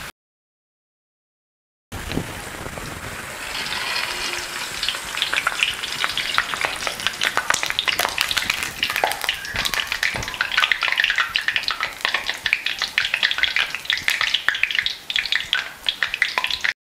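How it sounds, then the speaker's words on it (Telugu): Small potato fritters (bajji) frying in hot oil: a dense, crackling sizzle that starts after a short silence and continues loud and close, with bursts of bubbling and popping. "చిన్న బంగాళదుంపల బజ్జీలు బాగా వేగాయి."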